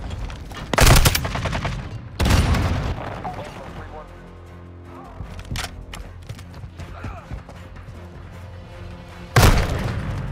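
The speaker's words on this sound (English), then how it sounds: "Throwing a grenade!" Grenade blasts boom in a Modern Warfare II multiplayer match, three heavy, close explosions separated by quieter stretches of scattered gunfire and clatter.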